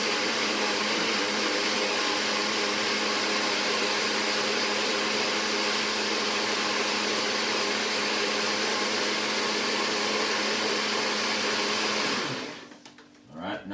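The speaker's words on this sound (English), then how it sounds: "So we're gonna blend this now for a few minutes." A blender whirs steadily at full power while blending a smoothie, a loud continuous motor roar that runs for about twelve seconds before cutting off and spinning down.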